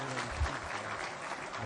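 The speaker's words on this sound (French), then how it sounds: "Nous pouvons applaudir." An audience at an African finance ministers' caucus in Bangui applauds steadily, a dense wash of clapping from a moderate distance with no pauses.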